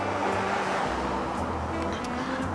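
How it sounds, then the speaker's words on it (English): A car drives past on a roadside, a steady moderate roar of tires and engine rising and easing as it goes by, with no talking. "I pause every time a car drives by because it's loud."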